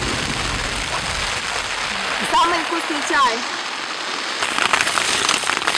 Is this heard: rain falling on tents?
yes